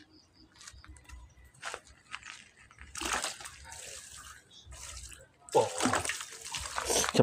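Water sloshes and splashes in irregular bursts as dried cassava soaks in a container while gaplek is being made, with a brief voice exclaiming partway through.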